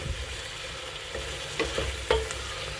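Chicken frying with diced onions in oil, stirred in the pan: a steady low sizzle with a few scraping stir strokes near the end, close and fairly quiet, no talk.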